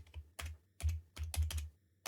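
Close clicks on a computer keyboard as a short model name is typed, a quick irregular run of about seven keystrokes with brief pauses between them.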